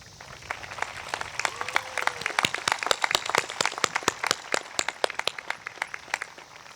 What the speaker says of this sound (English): I want you to thank every teacher, coach, friend, or family member who helped you get here today with a round of applause.